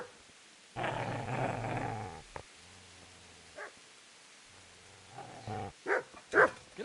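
A dog in the medieval game Kingdom Come: Deliverance growls low and steady, then lets out several sharp barks and yips in quick bursts near the end, close and fairly loud.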